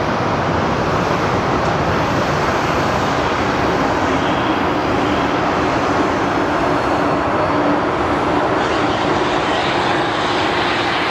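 An American Airlines jet airliner at Phoenix Sky Harbor airport fills the scene with a loud, sustained engine roar, a broad steady rush with a faint high whine that holds without pause.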